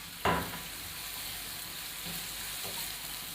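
White cumin seeds fry in oil with ginger-garlic paste, opening with a sharp burst of sizzle that then settles into a steady hiss, with a faint stir or two and no voices.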